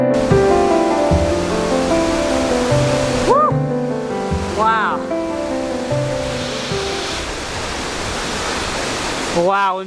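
Waterfall in Fuxing District, Taoyuan, Taiwan, roaring as steady broadband rushing water throughout, with a drone's whining motor pitch sweeping up and down over it and brief background voices.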